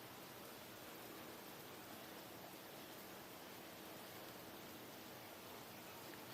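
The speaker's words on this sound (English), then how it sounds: "It's because it's raining." Rain falls steadily as a faint, continuous, even hiss with no change in loudness and no voices.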